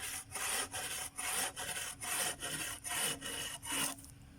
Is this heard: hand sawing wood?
yes